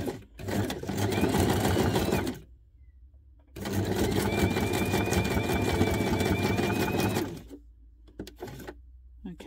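A sewing machine runs a zigzag stitch across small paper scraps in two long, steady runs separated by a brief pause, with a short final burst close by.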